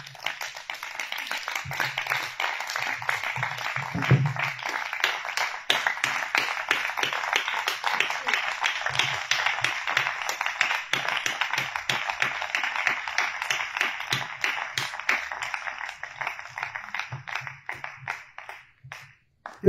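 A congregation at an evening church revival service claps in a fast, steady rhythm for nearly twenty seconds, crisp and dense, with a few brief voices underneath before fading out at the end.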